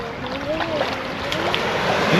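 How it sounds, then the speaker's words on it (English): Ocean wave washing onto a soft sandy beach at Esperance, Western Australia, a steady wash of surf rising slightly louder toward the end, with voices talking faintly over it. "Here comes a wave"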